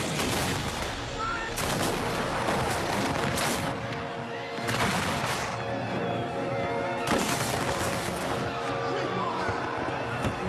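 A Civil War battle scene with volleys of musket gunfire, several sharp bursts cracking out at intervals over a dense, noisy battlefield din.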